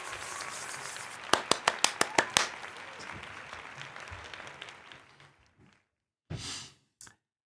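Praising artwork, a handful of sharp, evenly spaced hand claps ring out close by, followed by quieter rustling and then a loud breathy sigh near the microphone before a short final breath.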